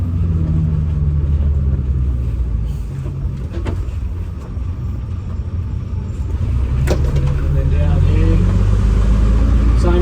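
AEC Merlin bus engine, a loud heavy diesel rumble that eases off and dips around a gear change, then swells again as it accelerates, heard from the cab with someone talking over it.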